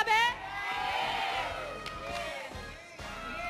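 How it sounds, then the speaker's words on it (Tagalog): A studio audience at a Philippine showbiz TV program calls out and cheers for a celebrity couple to kiss, a mixed crowd clamor of shouts and whoops swelling together, with a host's voice on microphone over it. "May sinasabi ang crowd."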